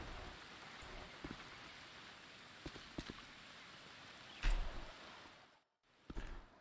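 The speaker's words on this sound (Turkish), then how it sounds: "Yağmur yağıyor." Soft, steady rainfall in a video game, with scattered heavier drop taps and brief crackles over a quiet patter, fading to near silence for a moment before resuming.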